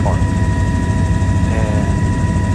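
A sightseeing helicopter flying over New York City near Central Park, its steady low engine and rotor drone loud and continuous, with faint voices mixed in.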